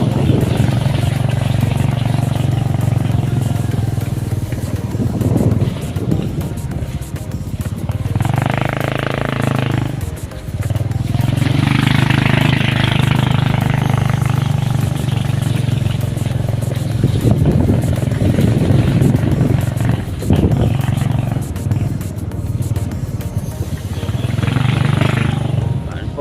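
Motorcycle engine droning steadily as it rides a road beside water, rising and falling with throttle changes, with people talking over it.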